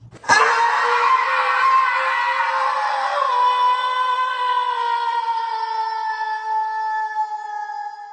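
A woman's scream in a horror story rises sharply and holds as one long, piercing, shrill cry for about eight seconds, alone and loud, fading only slightly at the end.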